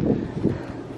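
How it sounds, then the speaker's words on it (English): Outdoors, wind buffets the microphone with a low, rumbling roar in gusts, close and steady, with no one talking. "Oh, and it's windy too."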